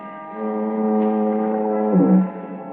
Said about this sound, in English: the monotonous moan of the foghorn down at the point near San Quentin Prison